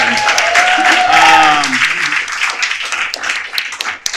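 Audience applause at a literary event celebrating debut novels, a dense crowd clapping loudly and steadily for about four seconds, with a voice briefly speaking over the start.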